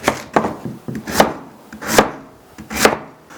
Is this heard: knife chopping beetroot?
yes